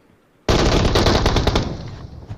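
Sustained automatic gunfire in a shooting video game, a loud rapid burst of shots beginning abruptly after a short quiet moment and rattling on continuously to the end with no talk.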